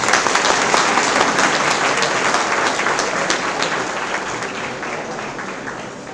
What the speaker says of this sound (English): I request all the audience to give him a big round of applause